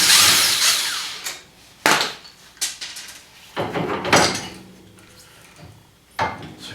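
Power tool with a 13 socket working a bolt on the front axle of a 2015 Arctic Cat ATV, several short bursts of whirring and rattling separated by pauses, close and fairly loud.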